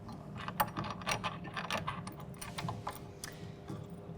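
A 40mm screw with an A-form washer is fed through a swivel plate into its hole, giving quiet, close ratcheting clicks and small metallic taps in a steady, uneven rhythm.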